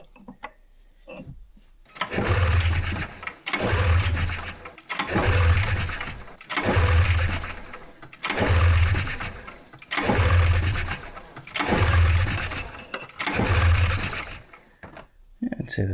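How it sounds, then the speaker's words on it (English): An old snowmobile engine that sat broken for years being cranked: about eight regular bursts of pull-starter churning, each with a rough mechanical rasp, separated by short pauses, close and loud, without the engine catching into a steady run. "let's try starting this thing"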